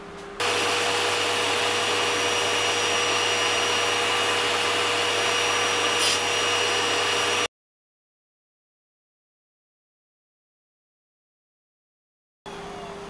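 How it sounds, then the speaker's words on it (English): A shop vacuum used as grit collection on a tool-and-cutter grinder runs with a loud steady whine and hum, cuts off abruptly into silence, then starts up again near the end. "let's see if the vacuum cleaner works"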